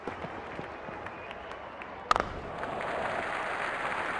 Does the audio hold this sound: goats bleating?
no